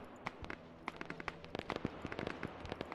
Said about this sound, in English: Okay, you guys hear those gunshots.